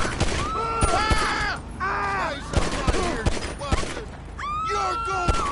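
Gunfire in GTA Online while fighting a rival gang: bursts of shots with sharp transients cut through a busy mix, with tonal game sounds and chatter-like voices layered throughout.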